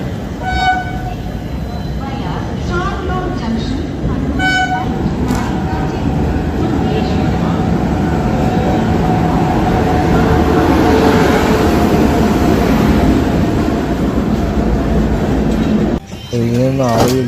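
A train pulls into Coimbatore railway station with a continuous heavy rumble of wheels and carriages, a few horn toots near the start, and people talking throughout.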